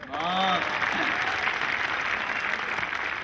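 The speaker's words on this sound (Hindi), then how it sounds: "कविता खत्म हो गई, ताली बजाएं।" Audience applause after a poem at a Hindi comic poetry gathering, a steady wash of clapping filling the hall for the whole stretch, with a voice briefly heard near the start.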